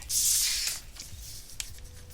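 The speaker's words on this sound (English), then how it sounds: "I'm about to write that down" Pen scratching on paper, a brief burst of writing followed by a few faint ticks and rustles, close and quiet.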